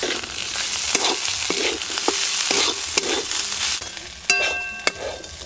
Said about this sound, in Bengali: আদা বাটা নিয়েছি, দিয়ে দেব আদা বাটা।